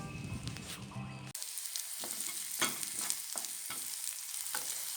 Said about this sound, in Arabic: هاي بصلة شوية قليتها بالزيت